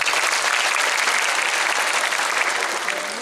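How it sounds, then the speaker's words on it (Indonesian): A crowd at a Sinau Bareng gathering with Sabrang MDP claps again on cue, producing a thick, continuous applause that stays loud and even before easing slightly at the close. "Tepuk tangan sekali lagi."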